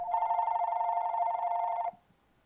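A telephone bell rings once with a steady electronic tone for nearly two seconds, then cuts off abruptly into quiet room noise.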